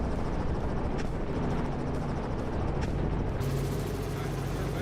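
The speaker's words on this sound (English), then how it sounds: "the helicopter's blades kicked up dust," A dense, rumbling roar of helicopter rotor noise with a choppy low pulse, loud and continuous throughout.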